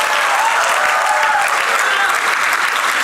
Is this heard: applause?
yes